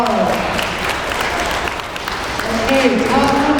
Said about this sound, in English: Okay, let's give her another round of applause